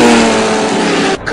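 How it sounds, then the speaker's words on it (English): A race car engine revs loud and close in a brief, sustained burst, the roar cutting off sharply near the end. "Now that's an engine."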